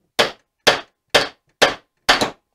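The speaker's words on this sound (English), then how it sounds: "Just a bigger hammer, that's all." A bigger hammer strikes a Saginaw transmission part five times at a steady pace, each blow a sharp, loud metallic clang with a short ring, the last one a quick double hit.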